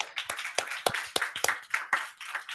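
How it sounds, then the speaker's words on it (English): Scattered hand claps from a small audience at an education forum in Tallinn, a few distinct sharp claps rather than a full ovation, fairly close and moderately loud with no talking. "let's give a big round of applause for our guests"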